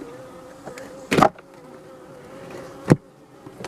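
A steady low honey bee buzz hums throughout at a beehive, with two brief louder bursts of buzzing close by as bees pass near.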